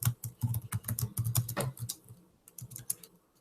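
Rapid bursts of computer keyboard typing, close and fairly quiet, in irregular clusters of clacks that thin out toward the end, with no one talking.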